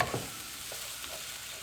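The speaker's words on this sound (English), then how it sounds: "So we'll mix it together." Beef and wild mushroom pie filling stirred in a pan, a soft continuous sizzle with faint scraping strokes, quiet and close with no talking.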